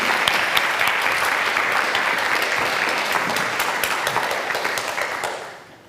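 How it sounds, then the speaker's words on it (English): A conference audience at a youth forum gives a round of applause, loud dense clapping that carries on steadily and then fades out near the end. "Maybe we can give them a round of applause."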